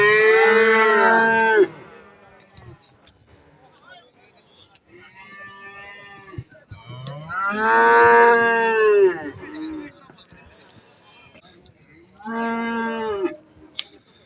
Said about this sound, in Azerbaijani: Kəsimə gedən danalar.